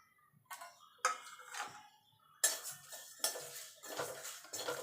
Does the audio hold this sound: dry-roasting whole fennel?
yes